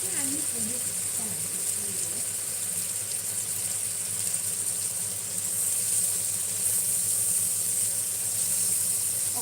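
Rice noodles frying in a pan for Thai Pat Mee Korat, a steady bright sizzle running throughout with faint clatter and a voice murmuring beneath it.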